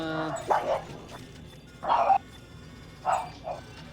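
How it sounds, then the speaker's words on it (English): Pet dogs barking from another room, three separate bursts of two or three barks each, moderately loud against low background hum. "Did you hear my dogs barking?"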